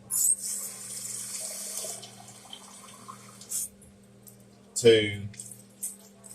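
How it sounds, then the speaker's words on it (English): Tap water runs into a cooking pot for boiling potatoes in a home kitchen, a hissing stream at the start, then a second, louder splashing pour later, with a person talking in between. "I'm going to put some water in here"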